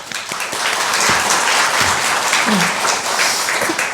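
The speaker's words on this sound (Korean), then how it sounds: "박수 한번 주시죠" A book concert audience breaks into sustained applause, a dense wash of many hands clapping at a steady loud level for the whole stretch, with a few brief voices mixed in underneath.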